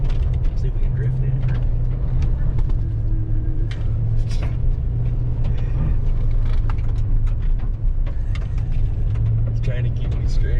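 A 4-wheel-drive truck with a locker rumbles loudly and steadily from inside the cab as it drives and tries to drift on a road, with low engine drone throughout and people talking over it.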